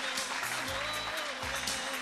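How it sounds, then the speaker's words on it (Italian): A theatre audience at a neomelodic singing show breaks into sustained, dense applause that stays loud and even throughout, with a faint voice underneath. "fate un applauso"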